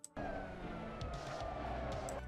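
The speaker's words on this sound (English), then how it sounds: "let the car coast through the rest of the corner" Mazda MX-5 Cup race car in the Assetto Corsa video game coasting through a corner at Hockenheimring, a steady close engine drone with faint tyre noise, running continuously after a brief quiet start.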